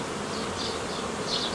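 Honey bees buzzing at a hive during a beekeeper's inspection of a colony, a dense steady hum close by with no pauses.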